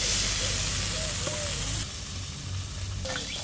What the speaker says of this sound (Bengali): ফুলকপি ভাজা হয়ে গেছে, এবার তুলে নেবো।